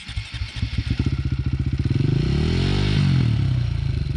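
A two-stroke cross enduro motorcycle engine fires up with a rapid chain of popping strokes, then revs up loud and close into a rising, droning buzz that holds and wavers, with no talking over it.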